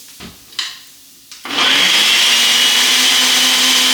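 A blender whirs into a loud, steady run as it purees curry thinned with almond milk, after a few short clatters and bumps.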